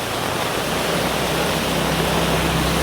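Floodwater rushing through a flooded village street in Ashagad, Dahanu, a steady, dense roar of flowing water that stays loud and unbroken throughout, with no voices.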